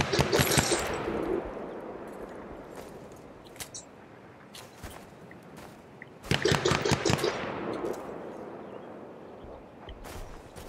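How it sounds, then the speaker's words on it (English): Video game gunfire rattles in bursts, two loud volleys of rapid automatic shots with scattered single cracks between, fading and returning over a background hum. "See the fire? Think they're firing at me?"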